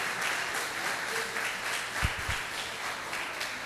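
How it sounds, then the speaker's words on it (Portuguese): A church congregation claps steadily through the stretch, the applause moderate and diffuse with a faint murmur and a couple of low thumps near the middle. "Você pode aplaudir pela humildade do nosso Deus?"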